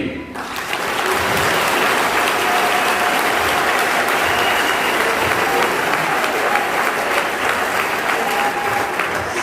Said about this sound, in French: Allez, vous pouvez applaudir.